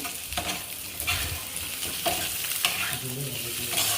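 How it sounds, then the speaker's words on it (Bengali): Eggplant fries with potatoes in a pan for a thin Bengali rui fish curry with vegetables, a gentle, continuous sizzle punctuated by irregular spatula stirs and scrapes, with no one speaking. "বেগুনটা ভাজা ভাজা হয়ে গেলে"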